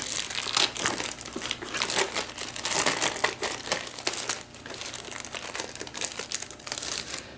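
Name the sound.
tearing open Amazon Fire TV Game Edition packaging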